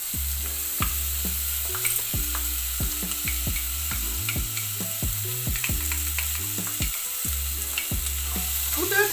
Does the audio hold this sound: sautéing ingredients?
yes